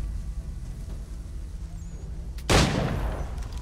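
A single gunshot rings out in the Assassin's Creed 3 video game, a sudden loud blast with a short decaying tail, rising over a low steady game background.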